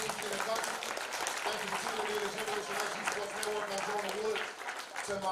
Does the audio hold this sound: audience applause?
yes